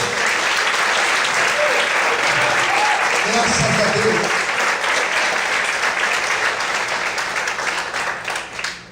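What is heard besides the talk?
congregation applauding loudly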